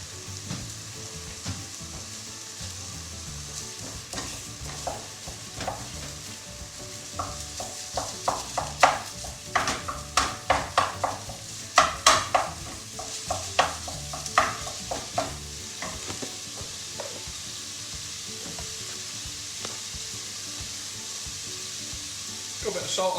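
Minced beef fries with onions in a pan, a continuous close sizzle punctuated by frequent rhythmic scrapes and clatters of stirring.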